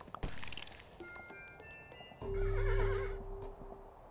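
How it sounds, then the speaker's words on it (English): In a video game, a horse gives a loud, high whinny over the clatter of hooves, both rising clearly above quiet ambient game sound. "Horsey, horsey, horse."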